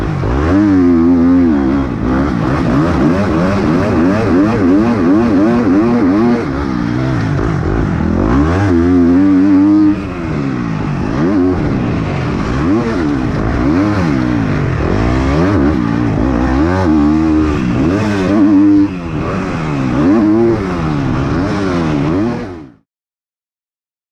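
A 250 motocross motorcycle engine on a supercross track, loud and close, revving up and down through repeated rising and falling sweeps with brief throttle-offs, running continuously for over twenty seconds before cutting off abruptly.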